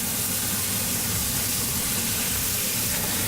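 Food sizzles and spatters in a hot pan, a dense, steady, loud hiss with no pauses and no voices.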